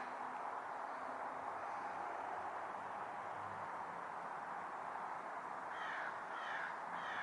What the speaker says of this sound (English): There's the birds again.